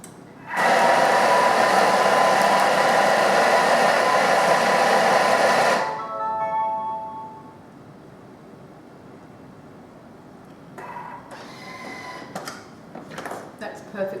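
A food processor blends a coconut bliss ball mixture at speed 5, a loud steady whirring that runs for several seconds, then cuts out and winds down; quieter kitchen handling sounds and clatter follow.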